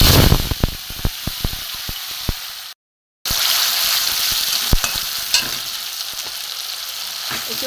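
Tomato and onion paste sizzling loudly in hot oil with bay leaf and dried red chilli, stirred, giving a strong steady hiss with sharp spatula knocks, and a brief dropout partway through.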